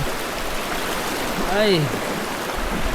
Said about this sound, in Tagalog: medyo kusog ang tubig